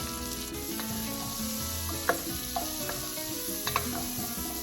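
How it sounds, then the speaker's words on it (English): Chopped tortilla pieces sauteing in a dry pan give a steady close sizzle, with a few sharp crackles and pops rising over the continuous hiss. "I've had this sauteing for 1 minute now, and it just seems kind of dry"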